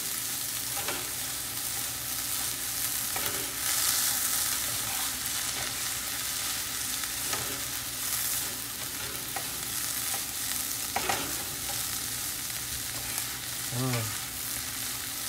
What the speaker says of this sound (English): And then just give everything a good mix.